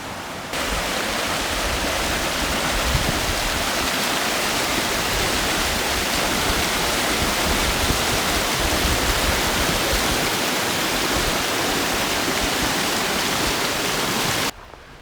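A river rushes past nearby, a loud, broad, unbroken roar of flowing water that holds steady for the full stretch before cutting off at the very end.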